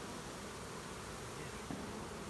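A honey bee swarm hums steadily around a catch box outdoors, a dense, continuous buzz of many insects close by with no voices.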